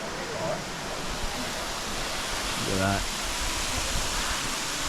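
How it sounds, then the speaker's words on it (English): A waterfall with fine mist pouring from a hole in the rock above, in a karst gorge, gives a steady broadband rush that fills the clip, with a person briefly speaking over it. "Beautiful bit of mist and waterfall"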